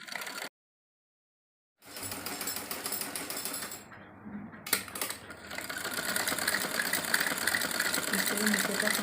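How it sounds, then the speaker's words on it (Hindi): A sewing machine stitching a seam on a salwar cut from woolen fabric, a fast steady mechanical whirring that starts after a short silence, briefly dips, then runs continuously and fairly loud. "इस तरह नीचे तक हम अपनी इस पर सिलाई लगा लेंगे।"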